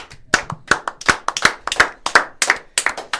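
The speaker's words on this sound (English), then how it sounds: "Clap it up for the number one Texas Longhorns." A small group claps in an uneven, loose rhythm for the number one Texas Longhorns, about a dozen sharp, close hand claps spaced through a few seconds with no talk.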